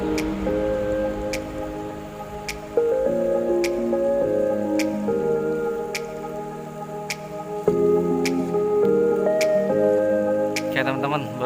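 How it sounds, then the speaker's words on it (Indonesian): Heavy rain falls near a river prone to flash floods, with dripping and splashing on surfaces. Steady tonal music and a few sharp clicks run underneath. "berhubung hujan semakin deras"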